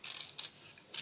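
Scissors snip through paper while cutting out pieces for a 3D truck punch-out model. A few faint, close snips come in quick succession.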